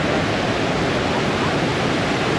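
A waterfall at Lam Khlong Ngu National Park, Kanchanaburi, rushes in a loud, constant hiss of falling water, close and unbroken throughout with no voices.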